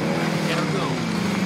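A vehicle engine drones steadily as the player drives in the video game Warzone, a continuous mid-pitched hum with shifting tone, with people talking over it.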